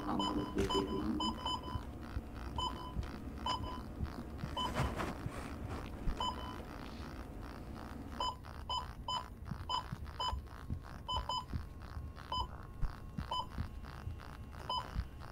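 An in-game device alarm in the horror game Apeirophobia beeps in steady, regular pulses over a low throbbing hum, carrying on for the whole stretch without speech.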